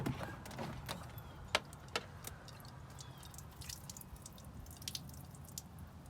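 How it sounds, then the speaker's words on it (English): Water drips and trickles out of a Ford Raptor truck door, scattered irregular drops and small splashes, faint and close, against a quiet background. "All this water has been coming out of my door."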